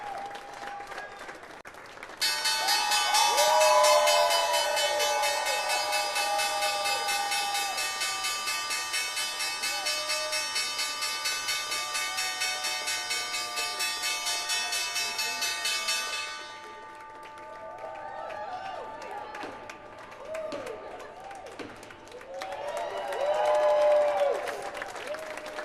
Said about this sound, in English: The team from Voya here to ring the closing bell